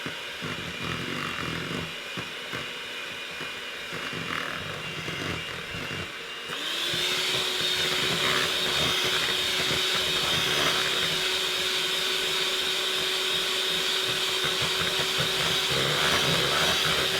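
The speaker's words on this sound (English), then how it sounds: "I'm just gonna get it mixed in just so you guys don't have to listen to the mixer for 2 minutes" An electric stand mixer works dinner roll dough. A whirring motor hum runs throughout and steps up to a louder, higher, steady whine partway through, close by with no talking.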